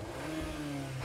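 A Volkswagen Golf engine, GTI or Golf R, revs steadily and loudly at close range, holding a sustained mid-pitched drone for about a second with no voices.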